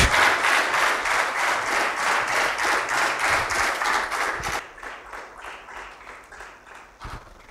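A crowd at an MOU signing ceremony applauds to welcome a guest onto the stage, rhythmic group clapping in a pulsing beat that drops abruptly to a thinner, quieter patter of scattered claps.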